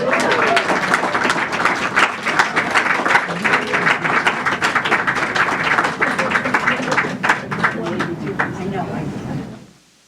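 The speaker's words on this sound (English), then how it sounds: "Another round of applause for all the readers today." Audience at a tribute reading event applauding for roughly nine seconds, a thick rattle of clapping that holds steady and then stops abruptly at the end.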